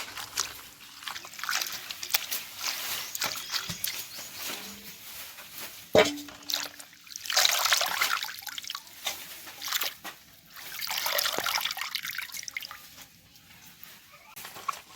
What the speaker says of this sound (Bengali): শাকটা ধুয়ে নিচ্ছি আমি ভালো করে